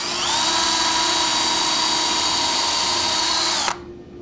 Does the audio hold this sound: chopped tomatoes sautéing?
no